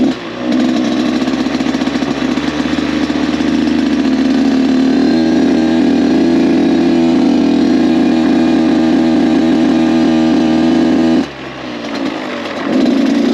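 Kawasaki KX 85 dirt bike engine riding in third gear, a loud, steady two-stroke drone held for about eleven seconds with small rises and falls, then easing off briefly near the end.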